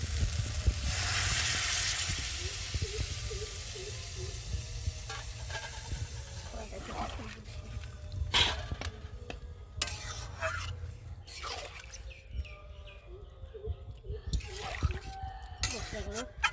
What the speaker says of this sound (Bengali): আর এখন আমি একটু নেড়ে জলটা দিয়ে দেবো।